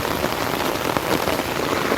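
Heavy monsoon downpour pounds a road in Dombivli, a dense, even hiss of raindrops hitting the surface, steady and close throughout with no voices.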